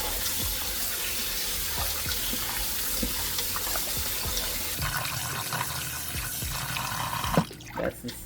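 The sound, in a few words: water running while rinsing oxtail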